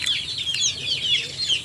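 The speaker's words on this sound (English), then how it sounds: "What you can see right now is a Bisaya kind of chicken." Bisaya chicken in the Philippines clucking in quick, bright repeated calls, close and clear over light outdoor background for under two seconds.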